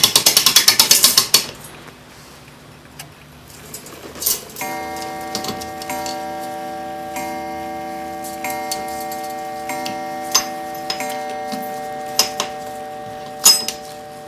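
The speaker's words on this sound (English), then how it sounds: "the winder and slowly unwind the spring." A clock barrel mainspring unwinds slowly in a mainspring winder, starting with a rapid ratcheting burst, then a sustained metallic ring and scattered sharp clicks of the pawl and gears, close and alone.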